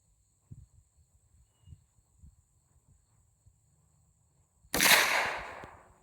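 A single rifle shot cracks out loud and close while a rifle is being zeroed outdoors, with a long decaying echo, after a few seconds of quiet soft thumps and a faint steady insect-like hum.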